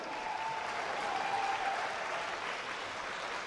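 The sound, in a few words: crowd applauding the kickboxing fighters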